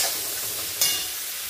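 Tomato and onion frying in a kadhai, a steady bright sizzle with one brief stirring scrape partway through, close and fairly loud.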